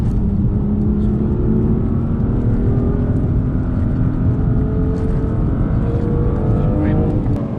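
A manual 2016 BMW M2 engine pulls hard under acceleration with overboost, a steady loud rising engine tone climbing toward high revs, with a person talking over it.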